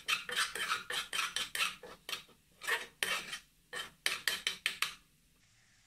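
A spoon scrapes and clatters against a pan as green chilli and garlic are stirred for a mango-ginger pickle, about twenty quick, close strokes in uneven bursts with brief pauses, no voices.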